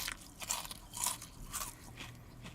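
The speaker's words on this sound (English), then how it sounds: "Listen to that crunch, man. I love it when it folds like that. It makes it even crunchier." Repeated crisp crunches of someone biting into crunchy folded food, several bites close to the mic with chewing between, no talking.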